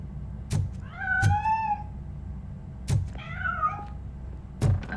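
A cat in the video game RoboCop: Rogue City meows twice in long, wavering, close calls, each set among soft thumping footsteps and knocks in an otherwise quiet space.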